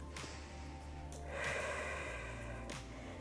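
Deep, audible breaths drawn in and pushed out during a leg exercise meant to reduce spasticity, close to the microphone, with a couple of sharp inhalations over steady background hum.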